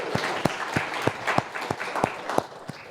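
An audience claps for itself at a generative AI networking event, with brisk, fairly loud applause and a strong, evenly spaced clap nearby marking a quick beat.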